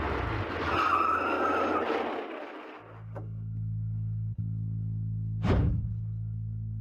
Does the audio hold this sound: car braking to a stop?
yes